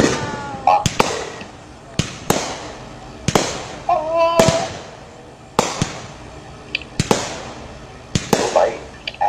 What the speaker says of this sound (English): You know how lucky you are to have an uncle that has these fireworks?